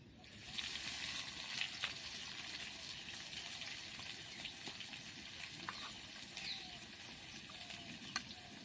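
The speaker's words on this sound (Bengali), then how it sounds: "তেলটা গরম হয়ে গেছে তেলের মধ্যে দিয়ে দিচ্ছি এক চামচ মতো জিরে একটা শুকনো লঙ্কা দিয়ে দিচ্ছি পেঁয়াজ কোচানো" Cumin, a dried chili and chopped onion fry in hot oil in a pan, giving a soft, continuous sizzle with faint crackles throughout and no voices.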